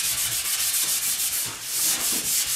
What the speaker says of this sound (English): I'm going to sand it right down.